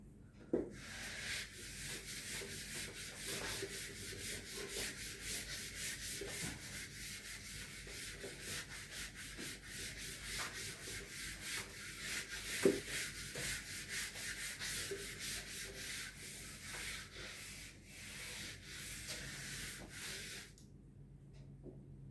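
Steady rubbing on a board as writing is erased during a lecture, a continuous scratchy swishing with rhythmic strokes and a few small knocks, close and fairly quiet for about twenty seconds before it stops.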